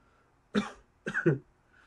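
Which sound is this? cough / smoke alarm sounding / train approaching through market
cough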